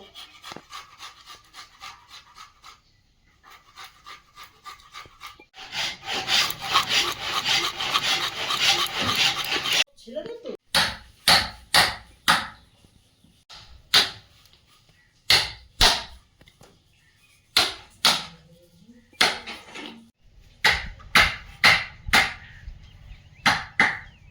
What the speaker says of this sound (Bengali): ছোট ছোট আদা রসুনটা করে নেব